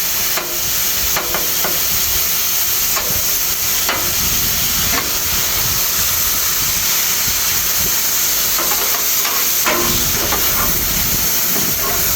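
Fried rice being mixed on a hot Blackstone griddle, a steady loud sizzle and hiss running throughout with occasional scraping and tapping of a metal spatula against the flat-top surface.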